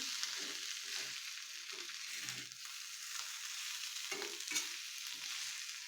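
Potatoes coated in spices are stirred in a pan for a yellow potato dish, with quiet frying hiss and intermittent scraping strokes of a spoon coming in uneven bursts.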